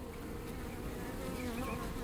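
Honeybees hum in a dense, steady drone on a hive frame during an inspection, a close continuous buzz with no talking.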